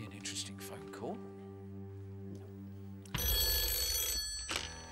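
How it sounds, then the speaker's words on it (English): A telephone bell rings on a game-show set, a few distinct trills with a steady hum underneath, followed by a louder burst of crowd and studio noise. "This is going to be an interesting phone call."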